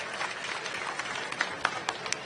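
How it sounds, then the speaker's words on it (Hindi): An audience claps to welcome a newly appointed youth Congress president at a political gathering, a steady wash of applause with a few sharper claps standing out toward the end. "जरा जोरदार तालियों से उनका स्वागत सब मिलकर हम कर दें"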